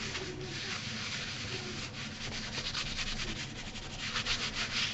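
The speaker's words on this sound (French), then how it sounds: "Donc je frotte bien pour pas qu'on ait de traces de colle" Paper being rubbed firmly by hand onto a glued mini album page, steady close scratchy back-and-forth rubbing strokes that continue throughout and swell near the end.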